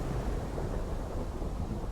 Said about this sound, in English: The lightning bolt had struck.